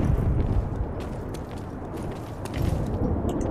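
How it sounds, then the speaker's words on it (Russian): Explosions in the video game The Saboteur: deep rumbling blasts swell and roll, easing briefly before a second surge of booming rumble, loud and low. "Начнем взрывы."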